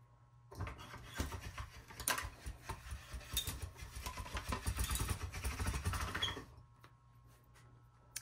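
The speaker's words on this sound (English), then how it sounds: "now I'm going to run this through my pasta machine once again on my thickest setting" Polymer clay run through a hand-cranked pasta machine on its thickest setting, a quiet rhythmic grinding and rattling of rollers lasting about six seconds between near-silent pauses.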